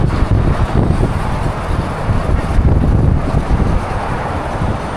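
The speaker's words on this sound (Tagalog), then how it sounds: "Ang sarap ng hangin dito." Strong wind roars continuously past a moving vehicle in Malaysia, a loud steady rush with low rumbling buffeting.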